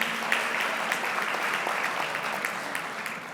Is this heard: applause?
yes